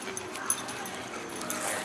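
Small dog whimpering at an outdoor farmers market, thin high whines and a few yips coming and going close by, mixed with background chatter and people talking.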